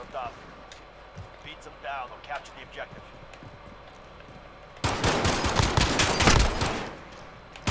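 Pistol gunfire in the video game Call of Duty Modern Warfare, during a gulag fight, breaks out suddenly as a loud burst of shots after a quieter stretch in which a person talks excitedly.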